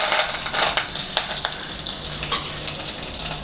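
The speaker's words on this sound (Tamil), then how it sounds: "கடுகு பொறிஞ்சிருச்சு கருவேப்பிலை போட்டுக்கலாம்" Mustard seeds and curry leaves crackle and sizzle in hot oil, a close, loud, steady frying hiss dotted with small pops and sharp crackles, with no talking.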